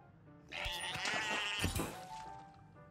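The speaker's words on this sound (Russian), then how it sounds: "О, баран, короче." In a video game, a sheep gives one close, clear bleat lasting about two seconds, wavering and nasal, with nothing else sounding around it.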